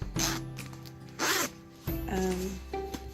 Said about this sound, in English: Zipper works great now.